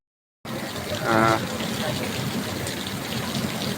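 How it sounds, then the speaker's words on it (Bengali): Heavy rain pours at Baitul Mukarram mosque in a steady, dense rush after a short silence, with a brief voice rising over it early on. "প্রচণ্ড বৃষ্টি কিন্তু বাইতুল মকরমে পড়ছে"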